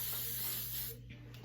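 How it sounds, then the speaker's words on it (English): Joico thermal protectant spray hisses onto hair in one close, steady burst of about a second before cutting off into near silence. "So I just spray it in. It's like a hairspray"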